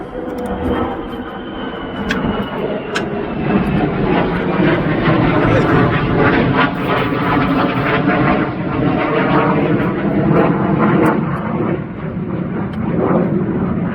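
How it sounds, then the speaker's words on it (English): A steady, loud engine roar fills the whole stretch, like an aeroplane passing overhead, with a few faint clicks and knocks close by. "There's another damned aeroplane. And there's 2 more."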